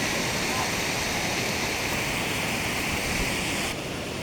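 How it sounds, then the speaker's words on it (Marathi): A high-flow waterfall near Kharvai Naka in Badlapur roars as a loud, steady, unbroken rush of water that fills the whole clip and eases only slightly near the end. "आज पाणी खूप जास्त आहे त्याच्यामुळे तो धबधबा एकदम अफलातून वाटतोय."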